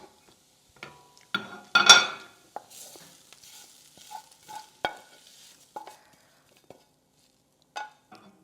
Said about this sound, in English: mixing it until the mushrooms absorb the barbecue sauce